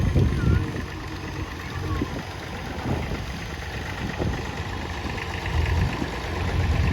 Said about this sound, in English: I've got one of the most modern tractors in the arena going past the commentary box right now